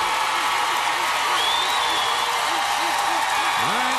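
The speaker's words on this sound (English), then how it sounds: "Now your applause counts twice." A crowd applauds and cheers for a dancer at a dance contest, a continuous loud wash of clapping with voices mixed throughout.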